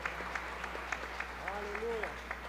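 Congregation applauding during a church service, light, regular clapping at a moderate distance under a steady low hum, with a voice faintly rising partway through.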